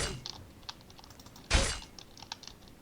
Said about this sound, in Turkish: Klavyenden çok ses geliyor.